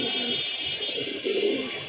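Young pigeons coo softly in low murmurs against a steady high background hiss, a little distant and fairly faint, with no voices.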